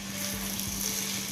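Cooled cooked rice being stirred in a hot pan for egg fried rice gives a steady, close sizzle with soft scraping movement throughout.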